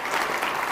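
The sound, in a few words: audience applause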